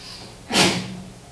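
A single sudden sneeze in a classroom geometry lesson, one short, fairly loud burst standing out against quiet room noise.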